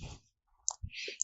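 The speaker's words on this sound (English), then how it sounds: "I'll just click on create" A computer mouse clicks in a quiet room, a couple of short sharp ticks close by with small bursts of other faint desk sounds between them.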